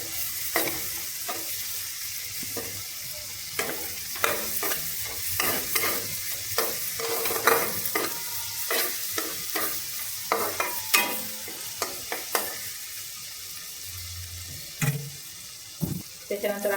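Chopped green chillies fry in a pan for an aloo matar paneer upma, a low steady sizzle under frequent close scraping stir strokes, with a few sharper knocks near the end.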